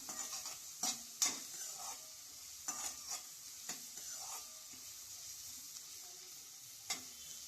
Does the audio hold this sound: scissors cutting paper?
no